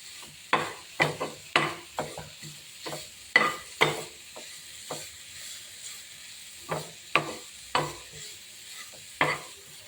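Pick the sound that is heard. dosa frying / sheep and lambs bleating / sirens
dosa frying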